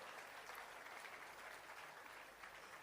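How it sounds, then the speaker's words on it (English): An audience clapping for themselves, steady dense applause from a room full of people, even in loudness throughout the short stretch with no voices on top. "I'd like you to clap for yourself."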